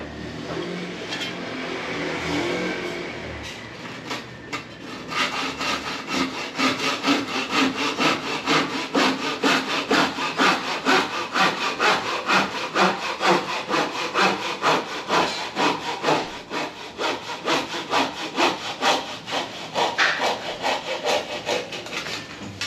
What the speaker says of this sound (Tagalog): So, gamit tayo ng lagaring